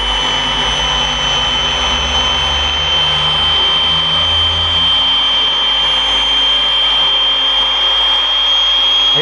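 A dual action polisher runs on car paint, producing a loud, continuous, close motor drone with a steady high whine throughout.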